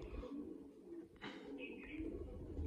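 A pair of Kamanghar pigeons, a male and a female, coo softly and close by in Jammu, with low murmuring calls under faint background noise.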